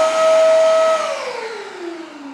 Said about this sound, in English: I can do that by pushing the vacuum button on the manual loop.